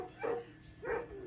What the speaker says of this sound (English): Oh, and I hear my dogs.